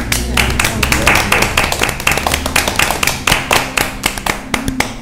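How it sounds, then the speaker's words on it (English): A small audience at a panel discussion claps steadily for several seconds, close and fairly loud, with a faint voice or two underneath. "Should we give him a round of applause?"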